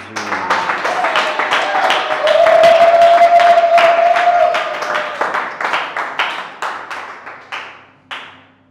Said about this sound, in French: Acclame pour Jésus